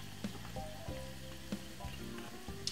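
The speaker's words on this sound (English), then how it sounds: "we're gonna make that fry for roughly about a nice good 10 minutes until they see they float" Mini dumplings fry in hot oil with a quiet, steady sizzle, broken by faint pops and light clinks at intervals.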